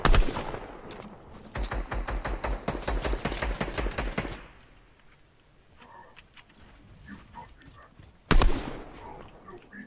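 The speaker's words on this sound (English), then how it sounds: "Oh, horrible shooting." Fortnite gunfire, fast automatic bursts rattling loudly for several seconds, then quiet ambient game sound with faint voice chat before one more short sharp burst.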